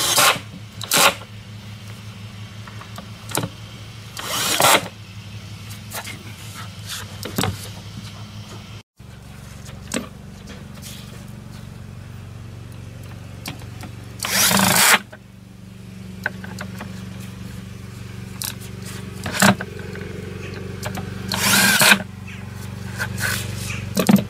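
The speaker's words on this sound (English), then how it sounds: "I've drilled a couple of pilot holes just for the screws on either side, and then just screwed down" A power drill drives decking screws through pilot holes into wood for the decking railings of a Japanese tea house, heard as several short whirring bursts separated by quieter pauses.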